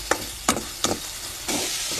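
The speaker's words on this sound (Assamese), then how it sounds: "এতিয়া বিলাহী দি দিওঁ। বিলাহী দি অকণমান লৰাই লওঁ।" Tomatoes stirred into dried fish in a frying pan, with three or four short scraping stirs over a steady background sizzle that grows a little louder near the end.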